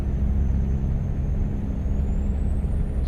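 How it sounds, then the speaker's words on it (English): A Freightliner Argosy with twin turbos in a modded truck driving game, heard as a faint thin squeaky whine rising steadily above a constant loud low engine rumble. "you hear the turbo spool up"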